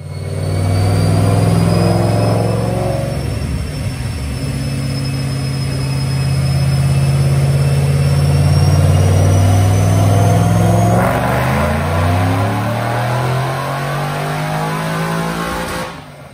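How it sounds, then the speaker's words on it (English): A 2010 Mustang with a 3-valve engine and a Whipple supercharger, on 93 octane, does a loud, close dyno pull, the engine revving hard and climbing steadily in pitch for about fifteen seconds with a supercharger whine above, then cutting off. "So let's watch the first 93 octane dyno pull."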